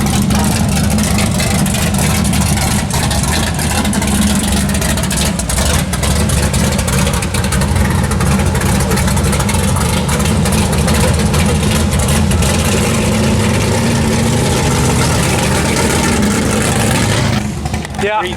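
An AMC 304 V8 with a healthy cam and an exhaust leak idles at an AMC car show at Edgewater Sports Park, a loud, continuous deep rumble with lumpy pulsing that holds steady close by for the whole stretch, with voices talking over it.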